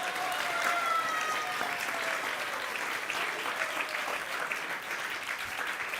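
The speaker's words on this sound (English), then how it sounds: "Please give a big round of applause for yourself." A gathering of guests at a devotional community event breaks into steady, sustained applause, a dense field of many hands clapping at moderate loudness for the whole stretch.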